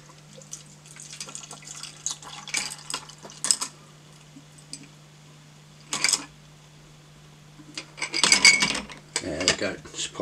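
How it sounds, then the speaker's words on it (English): A shaken cocktail is strained over ice into a chilled highball glass, with quiet trickling and rubbing sounds broken by sharp clinks of ice and glass, a rattling burst near the end, all close and fairly soft. "strain into a chilled hiball glass"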